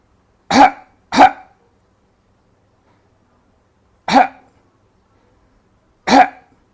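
Four sharp, isolated coughs, two in quick succession, then two more spaced apart, loud and close against silence.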